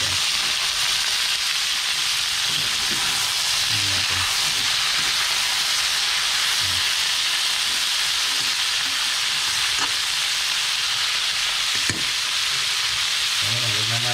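Bitter gourd (ampalaya) sautéing in a hot pan, a loud continuous sizzle and hiss with occasional stirring scrapes, close up and without speech.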